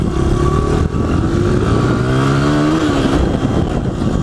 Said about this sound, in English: Now I just want you to listen to the engine.